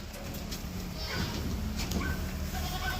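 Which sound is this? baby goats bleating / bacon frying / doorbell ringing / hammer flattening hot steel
baby goats bleating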